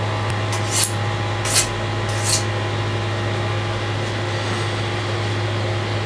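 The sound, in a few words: knife being honed on a sharpening steel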